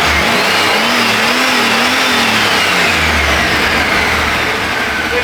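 The original 305 V8 in a 1979 Camaro runs loud and close with a steady, rumbling idle and slight pitch wobble, alone with no voices, the engine note easing as it winds down.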